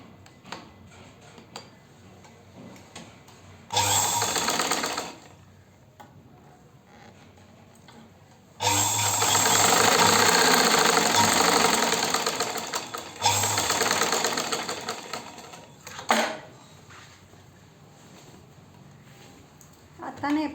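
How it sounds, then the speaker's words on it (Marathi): A sewing machine stitches the waistband of a petticoat in bursts: a short run, then a long steady whirring run, then several briefer runs, with a quiet hum in the pauses between. "ह्याचंसुद्धा तोंड बंद करायचं आहे थोडीशी शिलाई घेऊन."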